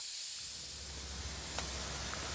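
A steady, soft hiss of escaping steam from a steam locomotive being steamed up fills the background, broad and constant, with one brief sharper puff partway through.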